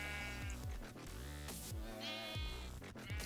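Minecraft sheep on a farm give several loud, close, nasal bleats in quick succession with no other sounds around them.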